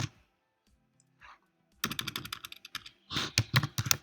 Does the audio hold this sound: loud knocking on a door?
no